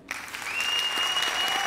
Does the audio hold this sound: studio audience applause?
yes